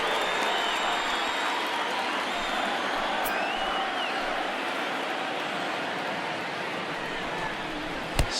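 A virtual ballpark crowd in the MLB The Show baseball video game murmurs and applauds in a steady, dense wash of noise, with a brief sharp knock near the end.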